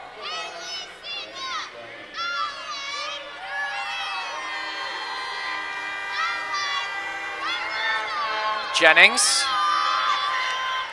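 A loud crowd at a Mississauga Power versus London Lightning basketball game, with shrill whoops and cheering from many young voices that swell into a sharp burst near the end, while an announcer talks over it.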